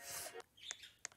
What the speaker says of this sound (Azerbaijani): Arxadan quş səsi gəlir çünki mənə